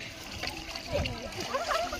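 Water pours and splashes softly at the base of a newly planted tree, a faint brief trickle heard under a nearby voice.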